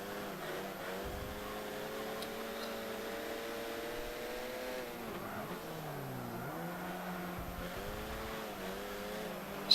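Race car engine in Forza Motorsport 7, a steady loud drone whose pitch climbs through the gears, dips while cornering and then revs up again, continuous throughout.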